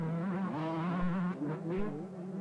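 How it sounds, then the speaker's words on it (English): A 1991 125cc Suzuki motocross racing engine drones steadily during the Italian Grand Prix, its pitch wavering up and down as it revs, loud and continuous. "So Tractor well out in front at the moment on his Suzuki machine."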